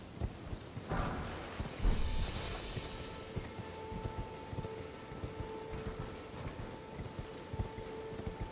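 A horse gallops in the Elden Ring video game, with steady rhythmic hoofbeats pounding close by beneath a game soundscape, a heavier thump near the start and a faint sustained tone later.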